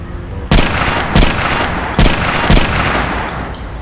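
Gunfire in the Compound VR shooting game comes as a rapid string of loud, punchy shots over a dense, noisy background, several blasts in quick succession filling the short stretch.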